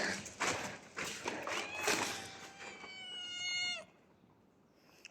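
Cats meow in a close indoor space, several drawn-out tonal cries overlapping in quick succession, loud and near, with a soft rustle of movement between calls and a quiet pause at the end.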